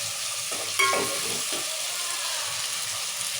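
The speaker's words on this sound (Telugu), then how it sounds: "ఇప్పుడు టమాటా ఈ నూనె అయితే తొందరగా మగ్గుతుంది నూనెనే ఉడికించుకోవాలి టమాటా" Tomatoes cooking in hot oil in a pan for a home-style mutton curry, a soft steady sizzle with a brief stir or scrape near the start, fairly quiet and close.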